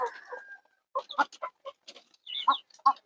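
A rooster and hens cluck in short, broken bursts, with a brief higher call at the start; the sounds are close and clear over a quiet background.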